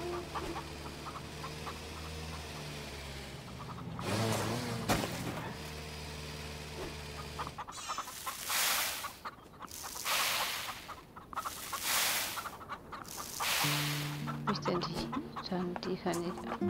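Chickens cluck in the farming game Farm Together, short clucking bursts in the second half mixed with other game sounds and people talking.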